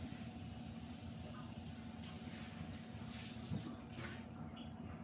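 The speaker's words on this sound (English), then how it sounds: "Let me rinse this out." Water runs from a kitchen tap to rinse out a container while macaroni and cheese is being made, a steady, moderately loud stream with a brief splash near the end.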